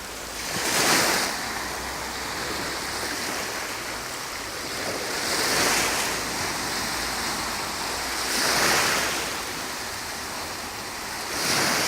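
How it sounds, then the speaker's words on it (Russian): Sea waves roll onto a calm shore on a still, drizzly morning, with a soft steady wash broken by gentle swells about every four seconds. "И чудесно шумит море."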